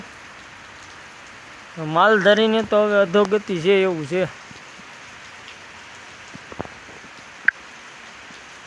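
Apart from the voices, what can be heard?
rain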